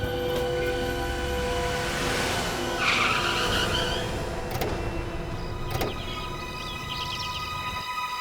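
A car comes to a stop with trouble, its tires skidding and squealing loudly across the whole stretch, with a couple of sharp knocks and a steady engine hum underneath.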